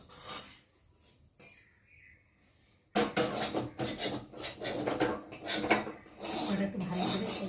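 A metal spatula scrapes stuck fried potato from a pan: a short faint rub, a pause, then several seconds of loud repeated rasping scrapes close by.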